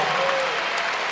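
Basketball crowd on its feet at a Michigan men's game against Purdue, a loud, dense wash of applause and cheering filling a short stretch with steady intensity.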